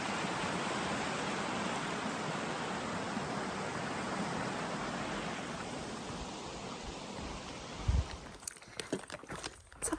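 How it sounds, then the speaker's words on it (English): Jennings Creek on the Appalachian Trail rushes steadily as broadband water noise, then a few close knocks and footsteps break in near the end. "This here is Jennings Creek."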